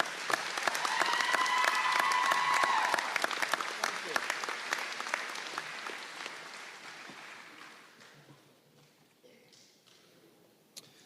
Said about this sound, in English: Let's give another round of applause to all of our speakers.